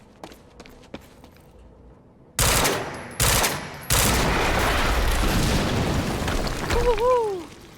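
A loud explosion in the video game Quantum Break bursts in with sharp blasts, then a sustained roaring rumble of fire and debris follows, standing well above the faint background and the quieter clicks that come before it.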